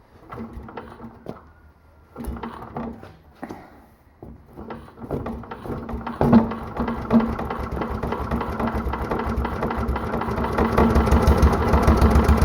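Honda clone small engine fitted with a heavy 10 pound flywheel, cranking with a few scattered thumps before catching and settling into a steady, loud running chug that builds toward the end.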